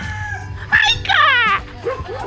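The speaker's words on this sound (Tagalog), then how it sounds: "Tita, ang aso!" Bika, a dog at a family compound in Occidental Mindoro, Philippines, gives a close, loud burst of whining, yelping vocalizations, rising and wavering over about a second.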